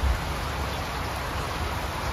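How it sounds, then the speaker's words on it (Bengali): Steady rain pours outside a balcony overlooking a lake and mountains in the village of Obertraun, a dense, even hiss of drops with no voices. "সামনে লেক, তার পাশে পাহাড়, আর ব্যালকনিতে বসে বৃষ্টি, কিছু বলার নেই।"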